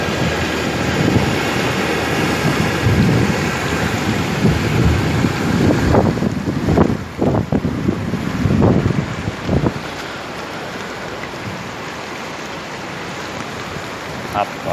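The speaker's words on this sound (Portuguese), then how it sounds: "chuva forte na velha" Heavy rain pours in Remanso, Bahia, a loud dense wash with gusting wind buffeting the microphone, easing somewhat toward the end; no distinct thunderclap stands out.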